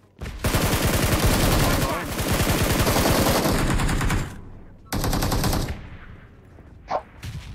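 Rapid automatic gunfire from PUBG Mobile gameplay, long dense bursts of loud machine-gun fire with brief pauses, then a few scattered single shots near the end.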